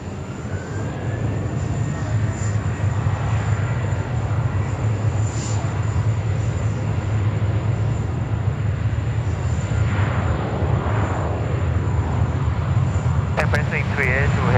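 Qantas airliner taking off from runway 16 right at Sydney Airport, a loud continuous jet engine roar with deep rumble throughout, steady and close, overlaid with faint voices.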